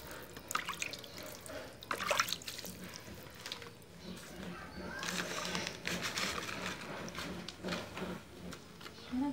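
Water splashing and dripping as garden plants are watered and cleared of weeds in hot weather, with irregular close trickles and drips under a faint background murmur.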